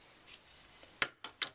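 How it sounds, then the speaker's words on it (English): Scissors trimming the ends off quilt fabric strips give four or five short, crisp snips, close and quiet, with the last three coming in quick succession. "right now I'm just cutting these ends off right now"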